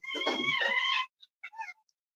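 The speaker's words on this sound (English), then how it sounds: "Be a good cat. You're lazy." A cat gives one drawn-out meow, then several short, fainter chirping mews after a pause.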